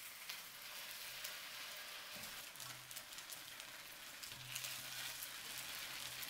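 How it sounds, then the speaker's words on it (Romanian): Steady crackling sizzle of tofu frying in a pan, continuous and close, with faint low hum underneath and no talking. "După ce am prăjit tofu pe ambele părți"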